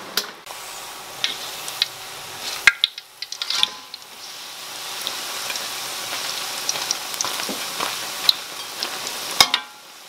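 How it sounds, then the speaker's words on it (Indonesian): Steady crackling sizzle of vegetable egg fu yung frying in a pan, with occasional sharper clicks and scraping taps as it is stirred and turned. "untuk menggoreng fuyung hai sayur itu memang harus sering dibolak-balik"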